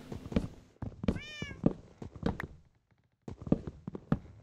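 A cat in Minecraft gives a short rising meow among dull blocky footsteps and taps, close and clear, with a brief silent gap before more steps.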